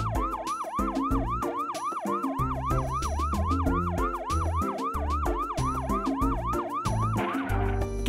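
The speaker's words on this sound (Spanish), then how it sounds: "Camión de bomberos." A loud, continuous emergency siren wails in rapid repeating cycles, close by, with steady low-pitched tones underneath.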